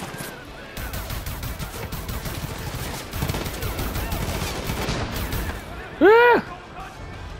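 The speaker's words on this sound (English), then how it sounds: "Mortar fire! Man, where are these mortars coming from?" Mortar fire in a shooting video game sounds as repeated dull blasts and crackling gunfire across the whole stretch, with someone talking and laughing over the noise.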